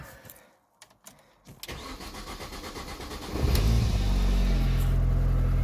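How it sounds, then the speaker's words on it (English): A Mini Cooper R50 Park Lane, in the middle of coolant system repair, is started from inside the car: brief quiet clicks, then the engine catches and settles into a loud, steady idle with a low rumble. "So now I'm in the car, we're going to start it up."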